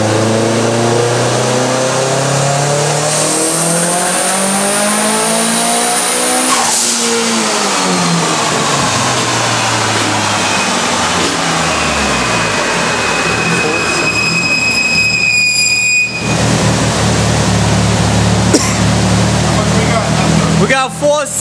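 A Mitsubishi Evo 8 with an ATP GT35 turbo does a dyno pull, its engine sweeping up loud and strong through the revs, easing off, then climbing again while voices talk nearby.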